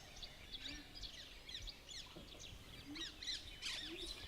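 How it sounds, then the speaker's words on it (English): Parakeets in Bandhavgarh National Park, India, chirp repeatedly in quick, high-pitched bursts scattered across the clip at a moderate distance, with a steady forest hum underneath. "Parakeets."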